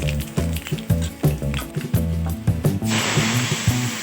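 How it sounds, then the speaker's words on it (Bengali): Boiled moong dal and bottle gourd go into hot oil tempered with dried red chilli, bay leaf and nigella seeds in a kadai, a close, loud crackling sizzle that swells into a steady hiss. "কড়াইয়ে একে একে শুকনো লঙ্কা, তেজপাতা আর কালো জিরে ফোড়ন দিয়ে সেদ্ধ করে রাখা মুগ ডাল আর লাউটা"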